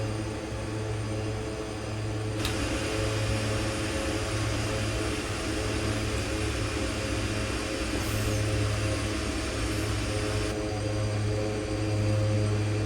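A DHC-6 Twin Otter twin-propeller aircraft flying in the X-Plane 11 flight simulator, with a loud, steady engine and propeller drone and a droning low hum running throughout, without any voices.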